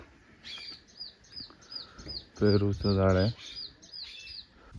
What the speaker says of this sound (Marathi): मस्त चिमण्यांचा आवाज येत आहे चिव चिव चिव